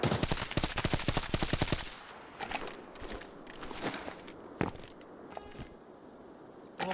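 Rapid automatic gunfire bursts loudly in the shooter game Arena Breakout Infinite, followed by scattered single shots, distant cracks and footsteps as the firing thins out over a low background.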